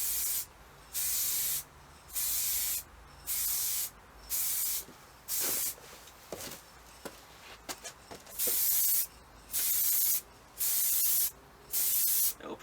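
Spray gun bursts coat a Falcon Panther under restoration in rhythmic, roughly one-second hisses, evenly spaced and fairly close, with short pauses between each pass.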